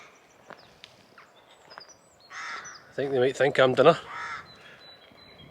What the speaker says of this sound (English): You hearing these crows?